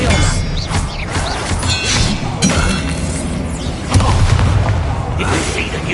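Spell-casting effects during Hogwarts Legacy gameplay on PS5: loud booming and shattering bursts mixed with game voices and music, with several impacts spread across the moment.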